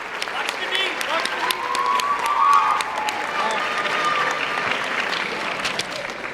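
Loud audience applause with scattered cheers fills a high school gymnasium or hall during a fall sports awards ceremony, dense steady clapping swelling midway and holding, with voices mixed into the crowd.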